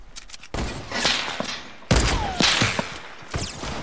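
Video game gunfire in a fast shooter match, with several loud bursts of rapid shots and impacts in quick succession, close and punchy, without talk over them.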